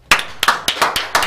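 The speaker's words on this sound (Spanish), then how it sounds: "vamos a despedirte con un fuerte aplauso." A few separate, sharp hand claps ring out close by in a television talk-show studio as a guest is sent off, irregular and sparse rather than a full ovation.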